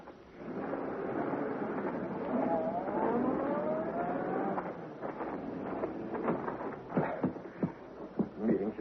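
The Black Beauty car's engine starting and pulling away in an old-time Green Hornet radio drama effect, a steady rising motor whine that breaks into sputtering bursts as it drives off.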